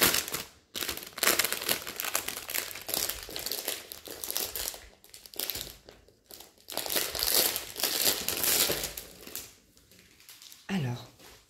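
Plastic packaging on a diamond painting kit being torn open and handled, loud close crinkling and rustling in bursts with short pauses between them.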